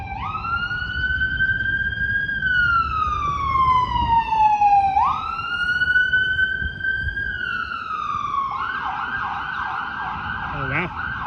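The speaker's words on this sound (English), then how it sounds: "That's the ambulance." Ambulance siren wailing loudly on a city street in downtown Toronto, its pitch sweeping slowly up and down before switching to a rapid yelp near the end, over steady traffic rumble.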